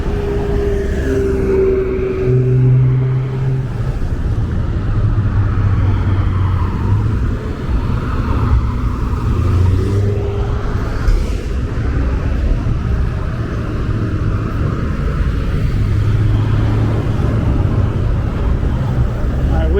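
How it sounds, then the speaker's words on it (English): Steady low traffic rumble near the Brooklyn-Queens Expressway on-ramp in Clinton Hill, Brooklyn, with engine drone and passing vehicles continuous and fairly loud throughout, some talking faintly underneath. "There's a major on-ramp to get onto the Brooklyn-Queens Expressway."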